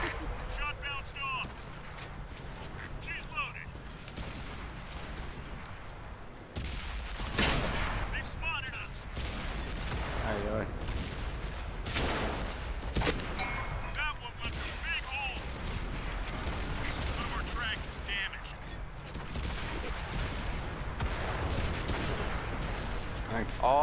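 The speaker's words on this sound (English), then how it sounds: "All I hear is bullets going off." Gunfire and cannon blasts in World of Tanks go off repeatedly in sharp bursts over a continuous rumbling battle din, with players talking throughout.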